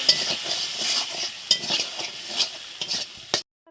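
Food frying in a pan at home with ginger paste, a bright steady sizzle broken by repeated stirring scrapes and clinks, close up, ending abruptly.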